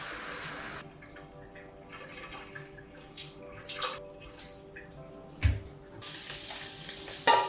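Running water splashes and trickles intermittently as wool yarn is rinsed, with bursts of louder splashing and quieter pauses between.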